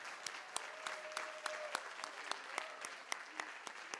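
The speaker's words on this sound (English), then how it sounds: "So please join me in applauding Fran Burwell, Anya Voloshin." An audience at an awards dinner claps steadily, a room full of sharp hand claps blending into sustained applause.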